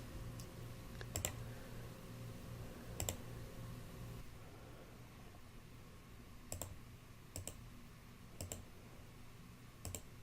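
Computer mouse clicks while outlining a carved memorial shape with a freehand mask tool, faint single and double clicks scattered every second or few over a quiet room hum, with no talking.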